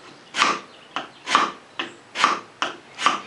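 A paint scraper drawn repeatedly across a rough framesaw-cut wooden face, seven close rasping strokes in a steady back-and-forth rhythm, with no talking.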